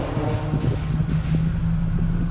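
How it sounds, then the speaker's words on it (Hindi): A helicopter engine starts up in the video game Granny Chapter 2, making a steady droning whir with a high whine, continuous and fairly loud. "चलो बैठते हैं, स्टार्ट करते हैं हेलीकॉप्टर को"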